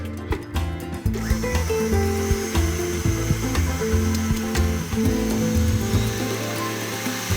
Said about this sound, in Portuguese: E eu vou colocar já na batedeira.